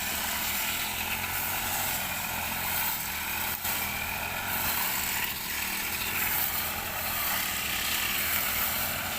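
A grass-cutting brush cutter's small engine drones steadily at close range, a loud buzzing hum with no pauses or voices over it, beside rice paddy dikes.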